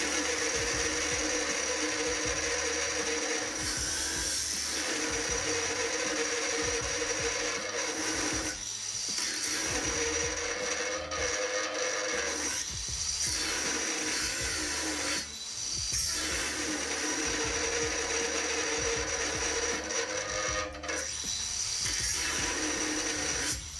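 A Procraft angle grinder, PW2150 or PW1100, cuts under heavy load while pressed hard, its high whine rising and dipping through repeated bursts with short breaks between passes.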